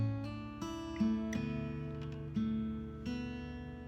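A short melodic phrase plucked on an acoustic guitar, single notes ringing one after another at a moderate pace, close and clear with no talking.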